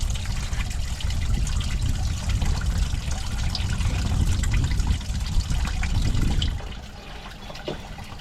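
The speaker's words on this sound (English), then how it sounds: "I'll let that drain." Fluid drains steadily in a continuous, fairly loud splashing stream from a 1996 Ford F-250 Power Stroke diesel engine, then eases off abruptly near the end to a fainter trickle.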